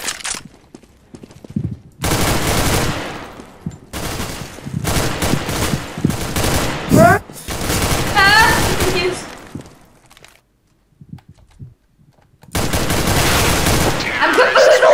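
Rapid bursts of gunfire in a CS:GO one-on-one duel, loud close shots in clusters separated by brief pauses, with a voice talking between exchanges.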